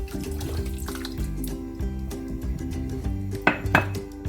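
Water running from a tap into a metal pot for a sugar syrup for ambarella juice, a steady splashing stream with a few clinks of the pot and a brief sharper clatter near the end.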